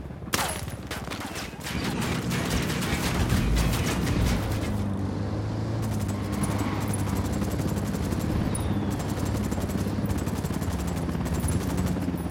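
Helicopter in the video game Ghost Recon Wildlands, a steady loud rotor drone with engine roar, opening with bursts of gunfire, continuous and close.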